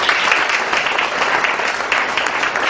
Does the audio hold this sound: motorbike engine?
no